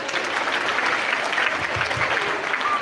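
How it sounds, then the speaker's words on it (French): A church congregation gives a short, dense burst of applause during a Sunday worship service. The clapping is steady and even throughout, with no voices rising above it. "Applaudissez pour elle."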